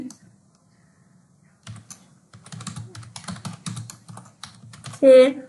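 Typing on a computer keyboard while composing a Gmail email: soft clustered key clicks in uneven bursts, close by, with a brief louder tone near the end.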